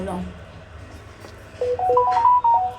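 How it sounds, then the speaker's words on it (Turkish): A short phone notification plays as a quick melodic run of bright electronic tones, rising then wavering, loud and close, following a faint background hum. "Aa aynı şey. Aynı bildirim."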